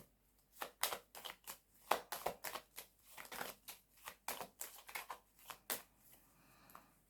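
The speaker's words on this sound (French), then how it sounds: "Alors, je vais recouvrir certaines cartes pour m'éclairer." Tarot cards are handled and laid out for a reading, producing a quick series of close, crisp flicks, snaps and slides of card stock in an irregular rhythm, soft overall, with no one talking.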